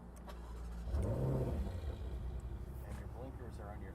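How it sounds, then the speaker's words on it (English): Ferrari engine starting up at close range: a brief whirring crank bursts into a loud rev, then settles into a rumbling idle, with speech over it. "Press the brake, and then the engine start button is on the steering wheel."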